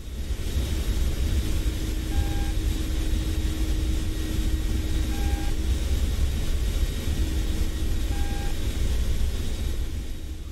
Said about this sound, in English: When a detected radar is searching, we will hear a slow, repeating tone.